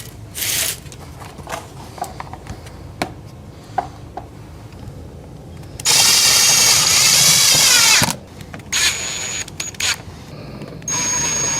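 A power drill drives screws to fasten a carbon fiber front lip onto a Subaru WRX front bumper, with a loud steady two-second whir in the middle, a shorter burst after it and a final run starting near the end.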